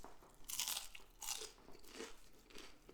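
Crunchy snack food bitten and chewed up close during a mukbang, with several loud crisp crunching bursts spaced about a second apart and no talking.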